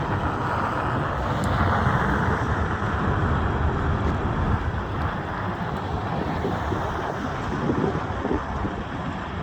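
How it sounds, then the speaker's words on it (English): Steady wind blows across an open aircraft accident site near Heyburn, Idaho, a continuous broad rushing roar with microphone buffeting that holds loud and even throughout, with no talking. "So we've got the wind now, it's blowing to the south"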